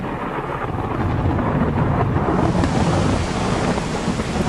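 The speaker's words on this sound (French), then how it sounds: "Le vent devient plus fort et l'eau monte de plus en plus." A storm sound effect of strong wind and rising water roars as a dense, loud, continuous rumble and rush, thickening and brightening halfway through, with no talking.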